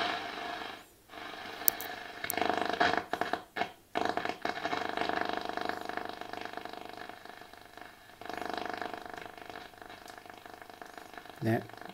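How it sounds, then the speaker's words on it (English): Shortwave static hisses and crackles steadily from a Graetz Musica 4R417 tube radio under restoration, a dense rough noise with scattered clicks and brief dropouts, fairly faint and close. "the static seems to be consistent with the shortwave signal"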